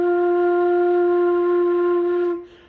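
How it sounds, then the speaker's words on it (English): A flute holds a steady F blown with a warm airstream, giving a lower, mellower tone. The single sustained note is clear and alone, then fades at the end. "If you blow too warmly, you'll still get an F, but it'll sound like this."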